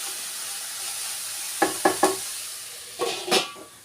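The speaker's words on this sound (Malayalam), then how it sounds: "അതിൻ്റെ ഇടയ്ക്ക് ഇതൊന്ന് ഇളക്കി കൊടുത്തോട്ടെ." Food cooking in a pan under a steady soft sizzle, with a few close scraping stir strokes coming in two brief bursts, no talking.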